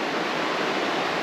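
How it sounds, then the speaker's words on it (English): The Erskine River cascades rush in a dense, continuous wash of flowing water, loud and near, with no other sounds breaking through. "This is the Erskine River Cascades."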